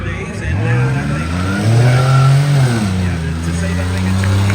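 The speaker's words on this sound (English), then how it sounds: "The pleasing tones of the minivans at full throttle are very tuba-esque" Minivans race at full throttle at an Indianapolis Cleetus event, their engines droning loud and near in deep, tuba-like tones that rise, hold and fall again as they sweep past.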